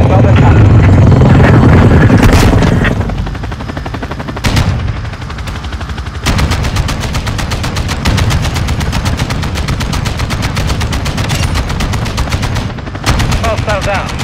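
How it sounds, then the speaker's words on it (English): Rapid sustained machine-gun fire from a chopper gunner helicopter in Call of Duty Modern Warfare II rattles continuously over a droning rotor, loud and close, with brief pauses between bursts and game voice lines mixed in. "Chopper gunner ready to deploy."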